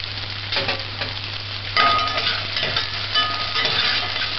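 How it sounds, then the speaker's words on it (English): Onions sauteing in a pan for a corned beef stew give a steady, close sizzle and crackle throughout, with occasional stirring scrapes and a louder burst partway through. "Allow it to saute."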